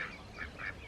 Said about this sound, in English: And there's also 7 regular duck babies.